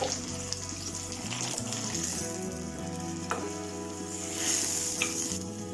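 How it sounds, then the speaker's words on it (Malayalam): Fried onion tempering poured into a bottle gourd and prawn curry brings a continuous frying sizzle that swells into a louder hiss near the end, with no speech. "അപ്പോൾ നമ്മുടെ ഉള്ളിയൊക്കെ ചോന്നൂട്ടാ, നമുക്കിത് ഇതിലേക്ക് ഒഴിച്ചു കൊടുക്കാം"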